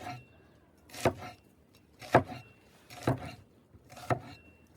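Knife chopping half a red onion on a board outdoors, four separate sharp chops spaced about a second apart, close and fairly quiet against a calm background.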